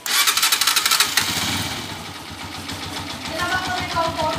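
Honda TMX125 Alpha motorcycle engine starting with a rapid, close chugging burst, then settling into a steady idle with a faint rattling knock.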